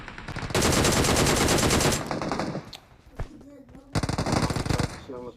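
Loud, rapid automatic gunfire from the shooter game PUBG Mobile comes in two long bursts with a quieter gap of scattered shots between them, and a voice talks faintly in the middle.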